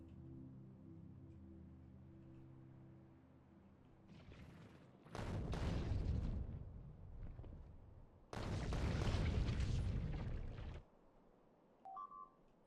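Artillery shells exploding in Factorio, heard as two long, loud rumbling blasts of broadband noise, each lasting a couple of seconds, after a quieter stretch with a faint tonal hum.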